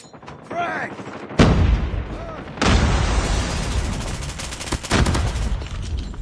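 Heavy gunfire and blasts from a first-person shooter match, with a loud grenade-like boom among repeated bursts of shots, all close and dense, and voices calling out in between.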